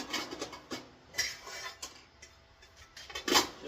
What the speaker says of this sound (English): Drop your heat shields down in here